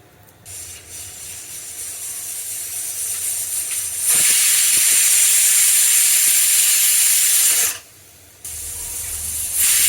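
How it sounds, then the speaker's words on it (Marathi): A pressure cooker lets out a loud, steady hissing whistle, cutting off briefly and then starting again. "कुकरच्याही शिट्ट्या होत आहेत"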